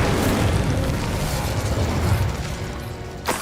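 A roaring, explosive burst of flame from the Incendio fire spell in the video game Hogwarts Legacy fills the moment loudly and continuously, ending in a sharp crackle.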